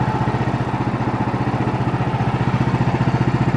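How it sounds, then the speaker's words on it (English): A sawmill's engine powerhead runs steadily, a loud, close, rhythmic low putter that chugs evenly throughout with no voices. "Dan's running the mill today"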